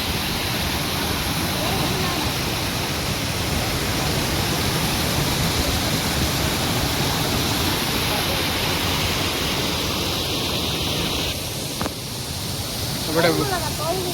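Broadband roar of a natural waterfall, steady and loud throughout, with a brief faint chirp-like sound near the end.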